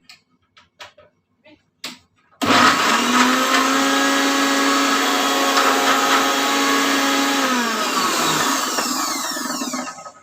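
A few soft clicks and taps come first. Then a kitchen blender grinding nuts for a juice starts up abruptly into a loud, steady high-pitched whir that runs for several seconds and eases slightly near the end.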